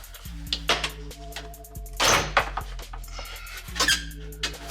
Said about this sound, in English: Loosen up these clips.